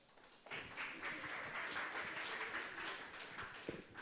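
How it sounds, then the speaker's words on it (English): An audience at a DevOps tech talk applauds a presenter named Boyd; the clapping starts abruptly after a short quiet moment and carries on as a steady, moderately loud wash of many hands. "give Boyd a round of applause"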